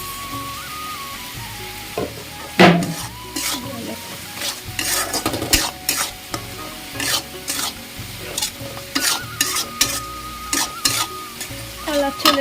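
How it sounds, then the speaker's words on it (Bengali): Leafy greens fry in a pan with Kashmiri chilli powder, while a spatula scrapes and stirs repeatedly in an uneven rhythm over a soft, steady sizzle, close up. "শাক ভাজা প্রায় হয়ে এসেছে"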